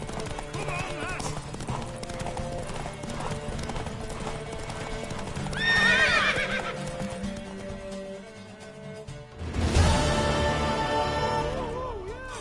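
Horse in The Witcher 3 video game galloping with steady clip-clop hoofbeats and neighing, set among game music and voices, with louder whinny bursts near the middle and end.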